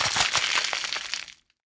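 A brief burst of crackling and clattering as ice tumbles into a miniature cooking set, loud and busy for about a second before stopping.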